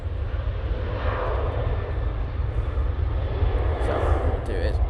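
An Emirates airliner rumbles on the runway at Manchester Airport, a broad, steady roar of jet engines at a distance that swells slightly, with faint background noise and no speech heard.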